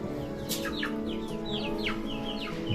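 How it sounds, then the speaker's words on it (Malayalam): Young chicks kept at home cheep in a continuous chorus of high, falling peeps, several birds calling close by against a steady background hum. "ഇത് നമുക്ക് രണ്ടാമത് പഞ്ചായത്തിൽ നിന്ന് കിട്ടിയ കോഴിക്കുഞ്ഞുങ്ങളായത്."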